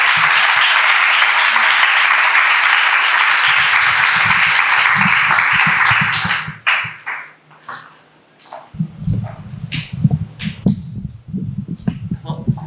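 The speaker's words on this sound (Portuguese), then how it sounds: "palmas para a Isabela Persives aqui." An audience at a poetry recital event breaks into loud, sustained applause for about six seconds, which dies away into scattered claps, shuffling and voices.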